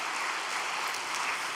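Applause from a congregation at a Korean religious gathering, a dense continuous patter of many hands clapping, steady and fairly loud, with no voices over it.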